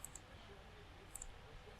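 A computer mouse clicks twice, small sharp ticks about a second apart, faint over a low steady hum.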